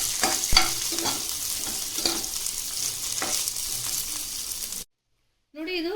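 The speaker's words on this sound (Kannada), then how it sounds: "ಇದನ್ನು ಫ್ರೈ ಮಾಡ್ಕೊಳ್ಳಿ ಚೆನ್ನಾಗಿ." Chopped mixed vegetables and green chillies sizzle and fry in a pan with occasional stirring scrapes, a steady close crackle that cuts off abruptly near the end before a voice begins speaking.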